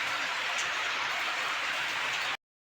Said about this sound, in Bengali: দেখো ওখানে কি বৃষ্টি পড়ছে